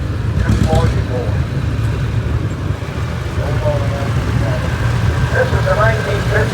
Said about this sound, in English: This is a 1953 Allis Chalmers, WC-45